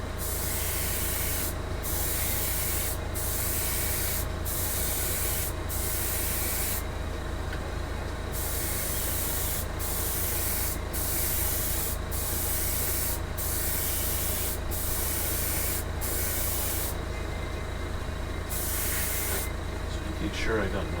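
Airbrush or spray can coating a 1/32 scale Tamiya F-51D Mustang model: repeated bursts of close, loud hissing spray, cut by short pauses, with a steady motor hum underneath.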